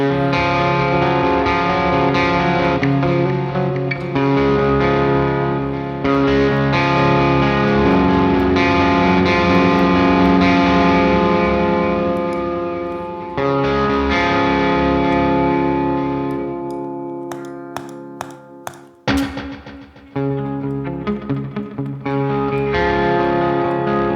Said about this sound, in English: it's a great delay. It's very, very musical.